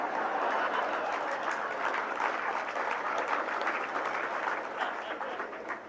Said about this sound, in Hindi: ये तालियां इधर से बज रही है